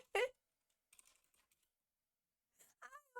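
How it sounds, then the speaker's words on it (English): Quick bursts of keyboard typing, faint and close, come in a few scattered clusters, with a loud sharp sound at the start and a brief voice near the end. "she's typing"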